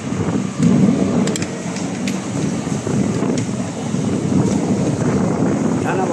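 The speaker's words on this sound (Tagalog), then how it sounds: "Yan o, lakas ng hangin." Strong, steady wind roars and buffets the microphone throughout, a broad continuous rush with gusty swells and no clear speech, during a thunderstorm.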